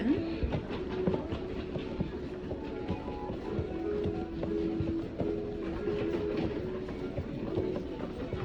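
A train clatters steadily past on the rails on an evening walk from Kowloon City to Kai Tak, with continuous wheel rumble and repeated clickety-clack beats close by and no voices.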